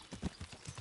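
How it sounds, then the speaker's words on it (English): Horse hooves clip-clop in a quick uneven rhythm over a short moment, close and moderately loud, with no talking. "Horsey."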